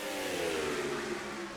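Race cars in a racing video game at Kentucky drone past on the track, a steady engine whine sliding slightly in pitch as the pack runs together.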